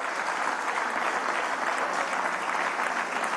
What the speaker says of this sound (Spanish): aplauso acá